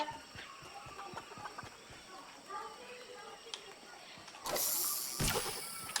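A chicken clucks faintly in Fortnite amid clicking game mechanisms and soft tapping, then a loud burst of noise swells near the end while a person talks over it.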